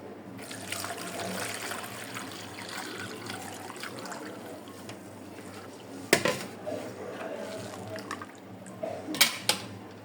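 Homemade neem oil strained through a cloth, a continuous soft trickle and dribble of liquid with a couple of sharp clinks of a vessel near the middle and end.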